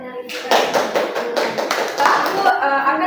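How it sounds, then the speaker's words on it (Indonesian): Children clapping their hands during a lesson when a teacher asks for applause: a short run of quick, fairly close claps in an uneven rhythm, with a voice heard before and after. "Berikan tepuk tangan teman-teman."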